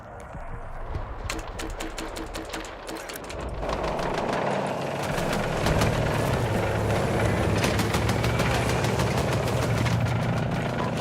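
Enemy helicopter in the Battlefield 6 video game, a continuous rotor chop and heavy engine drone that grows louder partway through and stays steady amid game noise, with no talk.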